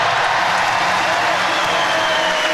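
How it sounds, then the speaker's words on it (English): Basketball crowd at an Australia vs New Zealand international friendly, a loud, dense wash of cheering and noise filling the arena continuously. "And listen to this crowd."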